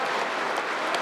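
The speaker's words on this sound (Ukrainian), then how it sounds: "Присутні в залі і в ложах гостей зустрічають оваціями" Loud, dense ovation fills a parliament hall after a language law vote, steady applause from deputies and guests in the gallery throughout the short moment.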